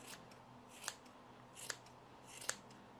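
Scissors snip at a yarn pompom to trim it, three crisp, quiet cuts spaced about a second apart against a faint, steady room background.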